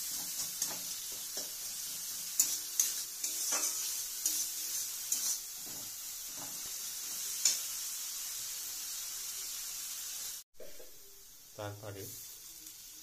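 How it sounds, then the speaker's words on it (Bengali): Onions for biryani fry and hiss steadily in a pan while a spoon stirs them in scraping knocks, with a short break near the end; a voice speaks briefly. "পেঁয়াজটাকে একটু ভালো করে নেড়ে চেড়ে নেওয়া হচ্ছে।"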